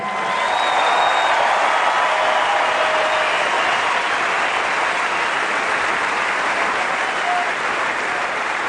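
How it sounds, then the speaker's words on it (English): A large arena crowd at the 2008 Australian Open men's tennis final applauds Novak Djokovic and Jo-Wilfried Tsonga, steady, loud, dense clapping that holds evenly for the whole stretch. "one last round of applause for Novak and Joe Wilfried"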